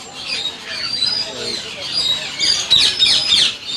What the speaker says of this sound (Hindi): ये ब्लू फ्रेंडेड अमेज़न है, अच्छा कलमा पढ़ रहा है